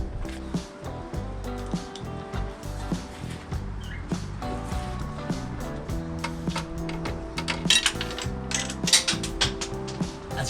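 Quick ratchet clicks tighten 12 millimeter bolts on the 4.0 V6 engine of a Nissan Frontier during spark plug work, a close mechanical clicking woven through a dense bed of background music with no talk.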